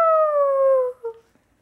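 A person imitates a dog howling, one long sliding howl that falls in pitch, then a short trailing yelp before fading to silence.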